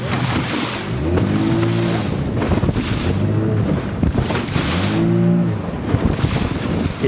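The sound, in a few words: motorboat riding big waves on Lake Michigan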